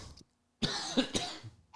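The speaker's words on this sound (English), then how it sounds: "Sorry for the coughing." Several harsh coughs burst out close by in a hot, stuffy room, coming in a dense cluster after a short pause, with throat noise between them and no talk.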